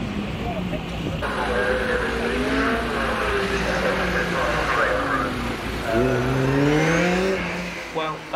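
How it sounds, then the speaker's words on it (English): A sprint race car engine sits at the start line, its revs rising and falling in repeated loud blips at close range, steady and droning, while someone talks over it. "Driver will be just playing with the revs, seeing what he's going to be happy with for when he finally sets off from the start line."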